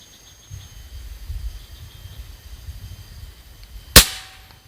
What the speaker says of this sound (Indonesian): Kita tembak ke bawah karena ini berbahaya ini ya.